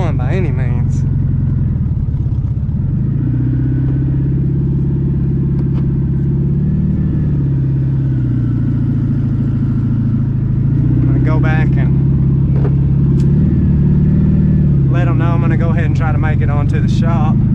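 Abandoned Volkswagen Beetle, air-cooled and first started in 30 years, running while driving: a loud, close, steady rumbling engine that shifts pitch as it revs and eases, with brief voices over it.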